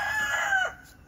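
A rooster on an urban homestead gives a single short crow, close and clear, trailing off abruptly with no talking.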